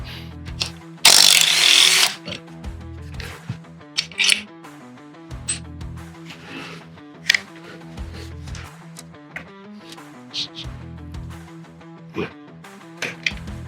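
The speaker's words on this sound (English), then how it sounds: "This is the only impact driver that I've got, and it's not air." A cordless electric impact driver removes bolts from a 351 Windsor engine, giving a short loud hammering burst followed by repeated mechanical ratcheting clicks and clinks of tools and bolts.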